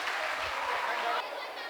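Audience at a school Ganesha Chaturthi celebration applauding sixth grade students, a close, continuous burst of dense clapping that eases slightly toward the end.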